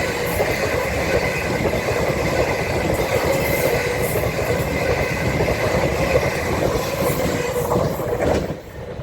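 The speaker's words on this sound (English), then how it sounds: "Another express train coming through." An express train, one of the Stadler FLIRT units, roars through Shenfield station in Essex, loud and close with steady rumbling and clickety-clack wheel noise, faint high squeals, then easing off at the end.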